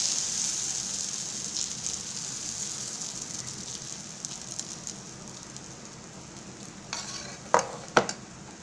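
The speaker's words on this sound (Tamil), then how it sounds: "இந்த தோசைக்கல்லில் வாங்கி விடணும் எண்ணெய் கொட்டிண்டு அப்படி மெதுவாக இழுத்து விடணும்" Moong dal adai dosa batter frying in oil on a hot griddle, a steady close sizzle with soft crackle throughout, ending in a few sharper scraping clicks near the end.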